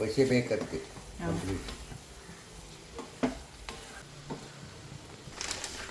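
Something is stirred and fried in ghee for a date payasam, with soft, steady sizzling beneath a few scraping stirs and some clatter, while a voice talks over it.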